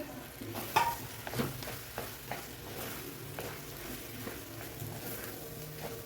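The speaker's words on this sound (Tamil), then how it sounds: "இப்போது நம்ம அந்த எடுத்து வச்ச வெண்டைக்காயை போட்டுக்கலாம்." Okra stir-frying in oil in a pan, with a steady sizzle, soft scraping and a few stirring knocks, close and moderately quiet, no talking.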